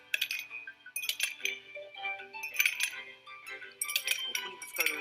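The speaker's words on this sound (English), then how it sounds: "The Joy-Con can convey to you the feeling of ice cubes colliding in a cup." Ice cubes clinking inside a glass as it is shaken, in quick bright bursts of clinks that recur every second or so over a soft tonal background.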